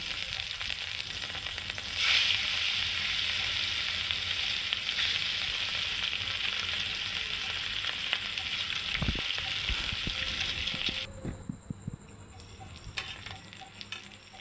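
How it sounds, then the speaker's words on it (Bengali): Pieces of katla fish frying in oil over a low flame, a steady hiss and sizzle that runs for most of the stretch, with a few scraping knocks as pieces are turned, before the sizzle fades near the end. "উলট পালট করে মাথাটাকে সুন্দর করে ভেজে নেব লো ফ্লেম আঁচে"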